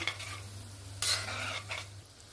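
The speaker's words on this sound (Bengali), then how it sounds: "এরকম ঘুরিয়ে ঘুরিয়ে চারিদিকে সমানভাবে ভেজে নিতে হবে।" Gulab jamun frying in oil while being turned, a soft continuous sizzle with a couple of brief stirring swishes and a low steady hum beneath, close but quiet, no voices.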